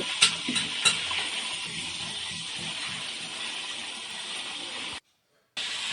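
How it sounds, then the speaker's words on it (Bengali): Chicken pieces, salted and marinated about an hour, fry in hot oil with a steady broadband sizzle throughout, a few sharper spits and pops early on, and a brief cut to silence near the end. "এখন সেগুলো আমি বেজে নিচ্ছি তেলের মধ্যে"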